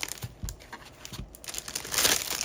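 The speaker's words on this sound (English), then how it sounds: "I'm gonna pull this, use the crinkling of this" Plastic packaging from a Diamond Press Christmas stamp and die kit crinkles up close, with scattered sharp rustles and crackles that grow denser and louder toward the end.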